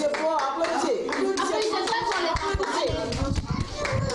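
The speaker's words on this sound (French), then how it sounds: "Applaudissez fort pour vous, applaudissez" Nursery school children in a classroom in Guinea clap together in quick, uneven bursts, close by and mixed with children's chatter and an adult voice.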